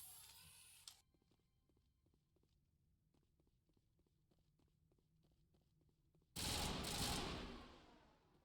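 Gunfire in Mass Effect 1 Legendary Edition. Quiet ticking shots and footsteps come first, then a loud sustained burst of weapon fire and blasts erupts near the end.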